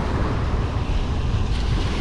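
Steady roar of Gulf of Mexico surf washing onto a Dauphin Island beach, mixed with gusty wind buffeting the microphone, continuous and fairly loud throughout.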